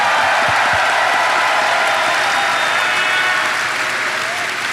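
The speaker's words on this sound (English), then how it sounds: "one more round of applause for the amazing sound team here" A convention audience at TennoCon breaks into sustained applause for the sound team, a loud, dense wash of clapping with a few cheers, holding steady and easing slightly toward the end.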